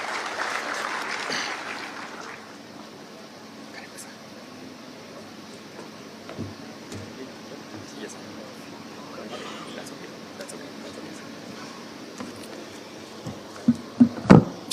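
Audience clapping welcoming a Kenyan county governor at a formal event attended by the president, a brief burst of applause at the start that quickly fades into a quiet hall with scattered small knocks.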